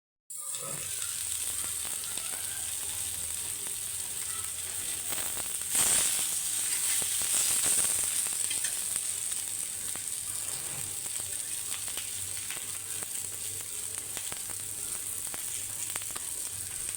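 Fish frying in a little oil in a covered pan, a continuous soft hiss and crackle that holds steady for a long stretch, with a brief louder surge partway through and no one talking.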